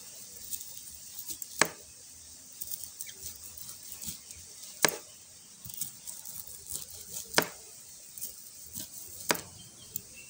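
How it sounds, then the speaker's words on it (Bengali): A knife cuts through bitter gourd on a board with sparse, sharp taps at irregular intervals, soft scraping and small knocks filling the gaps, all fairly quiet and close. "প্রথমে উচ্ছেটাকে কিভাবে কাটছি সেটা দেখে নিতে পারেন।"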